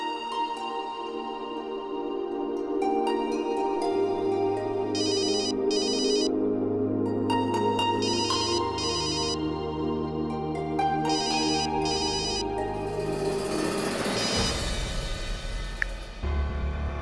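A phone ringtone plays with repeated bursts of bright electronic tones over background music in a Hindi TV drama scene, ringing in clusters for most of the clip before the music swells.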